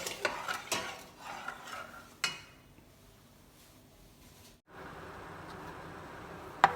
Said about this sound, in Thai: เราก็คนไปเรื่อย ๆ รอเขาเดือดนิดหน่อย